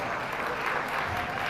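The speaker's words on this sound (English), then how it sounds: "Please give a big round of applause for an awesome second place goat in this class." Steady applause from the crowd at a youth livestock show, honoring the second place goat in a market or breeding goat class, sustained clapping heard fairly close throughout the short stretch.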